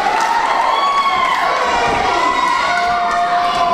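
A wrestling crowd in the battle zone at an independent show in Georgetown, Illinois cheers and whistles continuously, a loud dense roar with a few thuds, under a commentator's voice.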